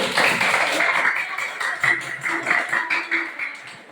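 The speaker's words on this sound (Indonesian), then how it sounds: "kita kasih dulu tepuk tangan untuk kelompok yang presentasi" A school class applauds a student group that has just presented in a science lesson on light, with dense, steady clapping from many hands close by.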